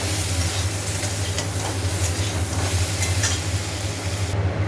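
Shrimp and eggplant salted with spices fry loudly in a pan, a dense continuous sizzle and hiss with occasional stirring scrapes. It stays close and steady, with no talking.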